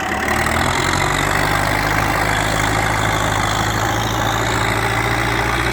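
Tractor with a D-240 diesel engine running, a loud steady low-pitched engine drone close to the microphone, constant throughout with no talking.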